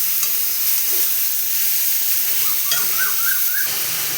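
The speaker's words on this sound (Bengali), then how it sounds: "দেবো লঙ্কার গুঁড়ো এক চা চামচ দিয়ে সবগুলো কষাবো ভালো করে" Spices with a spoonful of chili powder and turmeric are stirred and fried in a pan for paneer, giving a steady close sizzle with scraping stirs, alone without talk.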